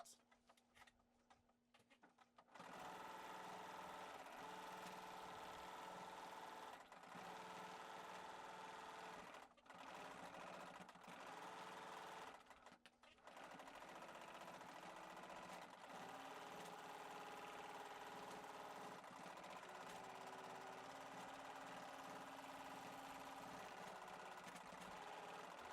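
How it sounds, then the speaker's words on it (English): A sewing machine stitches in the ditch across a Dear Jane quilt, a quiet, steady run of rapid needle ticks with a few short pauses between passes. "Now I'm gonna stitch my way over to this one."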